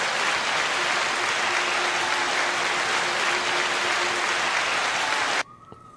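Sustained crowd applause greets a hip hop show co-host, a thick wash of clapping holding steady and loud for several seconds before it cuts off abruptly, leaving near silence.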